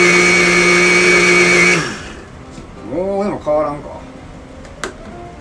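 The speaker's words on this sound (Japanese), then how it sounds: "ミキサーできてますわ。 もうちょっとしてみようかな。" A kitchen blender whirs loudly and steadily while pureeing a stew-like mixture, then cuts off abruptly partway through, after which a voice speaks briefly over quiet room tone.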